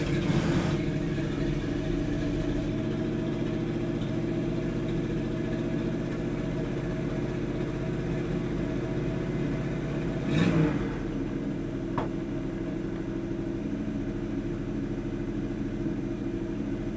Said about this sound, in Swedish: Det är automattjock på han så det tar ju lite innan han går ner i varv.